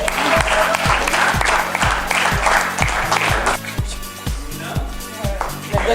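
Loud applause from a crowd over a steady thumping beat, with voices talking over it.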